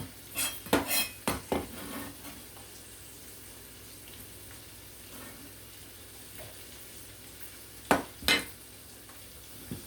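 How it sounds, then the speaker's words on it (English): Cut-up bacon pieces sizzle softly in a hot pan, under a few sharp clanks of a utensil against the pan early on and again near the end, close and without talk. "Cut up a few pieces of bacon and put it in there"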